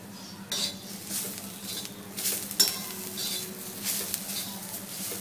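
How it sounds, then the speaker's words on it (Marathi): Coconut slices and coriander masala roasting in a pan, with a spatula scraping and stirring in bursts over a soft continuous sizzle, close and fairly quiet with no talk. "खोबरं किंवा खोबऱ्याचे काप घालायचे, तेही परतवायचे आहे. थोडंसं भाजून घ्यायचं."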